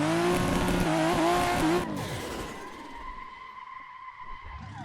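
A car skids and slides in the racing game Assetto Corsa in traffic mode, a loud engine whine with wavering pitch and tire noise that drops away after a couple of seconds into a steadier, quieter hum.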